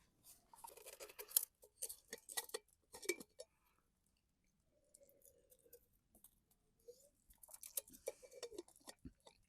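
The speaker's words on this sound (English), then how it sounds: "I'm going to eat this steak and thoroughly enjoy it" Close, crisp chewing of steak cooked over an open flame at a camp, in irregular bursts of wet crunchy bites separated by quiet pauses, with no talking.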